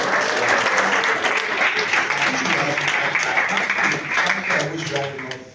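Guests at an education innovators' dinner give themselves a round of applause, steady and close clapping from a room of people that holds strong, then tapers off at the end.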